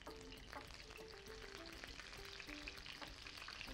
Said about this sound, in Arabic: ننزل البيض في الطاسة